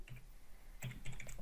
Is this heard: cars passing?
no